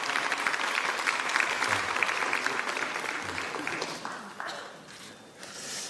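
Applause from lawmakers at a party caucus meeting, a steady wash of many hands clapping at moderate distance that thins and fades toward the end.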